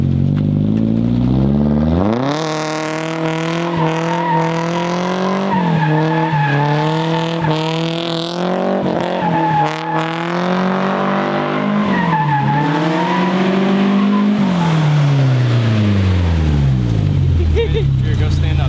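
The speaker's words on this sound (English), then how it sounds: "I'm gonna do a couple donuts for you guys just to show you, you know, what we actually did and that everything works" Nissan S13 drifting through donuts, its engine revving hard in long rising and falling sweeps while the tires squeal and skid continuously, loud and close, with voices talking underneath.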